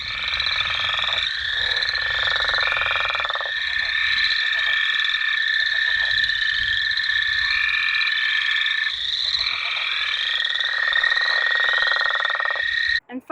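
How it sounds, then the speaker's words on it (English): Leopard frog calls in a wetland, rapid tapping pulses like a woodpecker on wood, repeating in bursts over a chorus of other frogs. A voice speaks faintly partway through. "the leopard frog sounds more like a woodpecker"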